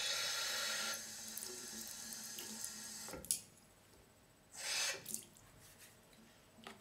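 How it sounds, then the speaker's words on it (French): Warm tap water runs into a sink for washing makeup brushes, a steady splashing stream that cuts off after about a second, followed by brief splashes and a short burst of running water later. "Donc vous mettez l'eau tiède."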